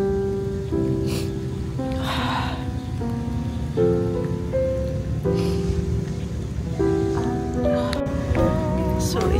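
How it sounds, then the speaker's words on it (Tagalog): Steady rain falls at a memorial park cemetery in Manila, a continuous hiss and patter heard throughout alongside sustained musical tones. "it's raining today."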